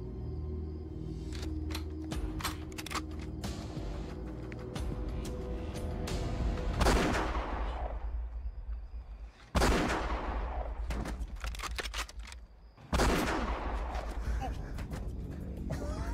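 Action-film gunfight with repeated gunshots, from quick scattered cracks to a few loud, sharp blasts with ringing tails, set against background movement and rumble.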